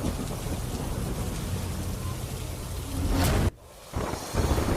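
Heavy monsoon rain pours down in Rajkot's Popatpara area, a loud, dense hiss of water on surfaces that drops away briefly near the end before surging back.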